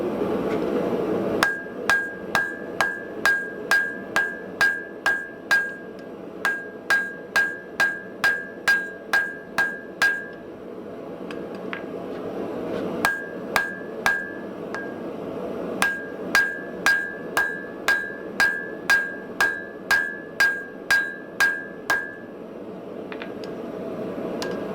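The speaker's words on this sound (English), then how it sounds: "give it a few light taps on the anvil or a squish in the press" A hammer tapping hot steel on an anvil at welding heat while forging a trade hammer, sharp ringing metallic strikes in quick even runs of about a dozen blows, separated by short pauses, close and loud.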